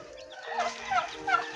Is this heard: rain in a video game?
no